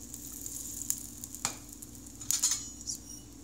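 Mustard seeds and asafetida frying in hot oil, a faint steady sizzle broken by scattered sharp pops and splutters, some clustered in quick bursts, heard alone without speech.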